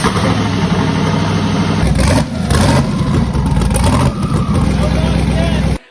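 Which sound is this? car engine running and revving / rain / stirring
car engine running and revving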